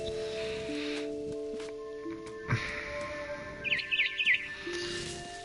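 Birds chirp in the video game What Remains of Edith Finch, a quick cluster of small high tweets over a quiet ambient game soundscape with low tones and faint rustling.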